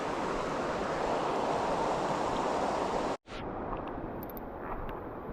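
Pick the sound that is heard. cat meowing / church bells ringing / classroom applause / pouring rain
pouring rain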